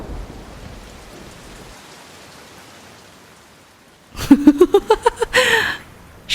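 Heavy rain from a Kalbaishakhi storm hisses steadily and evenly. A sudden loud, rhythmic burst of pulsing, tonal sound then cuts in near the end.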